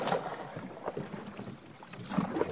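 A canoe paddle dips and pulls through the current of the Rio Grande in Santa Elena Canyon, soft splashing strokes heard faintly under light wind.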